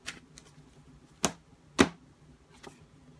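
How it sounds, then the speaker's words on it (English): A deck of tarot cards shuffled during a reading, a few sparse, crisp card slaps and taps spaced over a few seconds, close and quiet with no talking. "Tell me when to stop shuffling."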